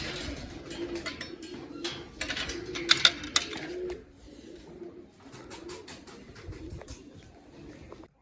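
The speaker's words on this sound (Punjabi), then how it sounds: "ਫਰ ਫਰ ਸਾਰੇ ਬਾਹਰ ਨਿਕਲ ਜਾਣਾ ਵੱਡੇ ਕਬੂਤਰ" Pigeons coo and flutter inside a loft, with soft repeated calls and scattered wingbeats and shuffles, louder in the first half and then quieter, with no one speaking.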